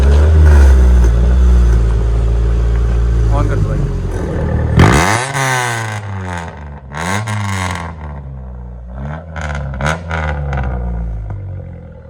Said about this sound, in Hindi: तो एक बार इसके एग्जॉस्ट साउंड सुना भाई। Straight pipe? हाँ, स्ट्रेट पाइप।